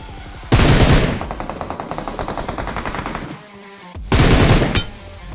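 Automatic gunfire in the mobile battle royale game PUBG Mobile, with loud rapid bursts at the start and at the end and sustained rhythmic firing between them.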